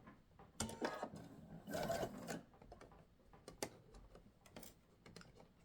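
A sewing machine stitching a 1 cm seam on an angled fabric inset, a fast quiet mechanical ticking with short bursts and pauses, close and alone.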